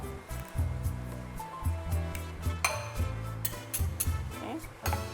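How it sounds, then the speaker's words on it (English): Metal cutlery tossing a Vietnamese noodle salad in a bowl, with repeated close clinks and scrapes against the dish in an uneven rhythm, plus a sharper knock partway through. "Get your cutleries and really like mix it all up"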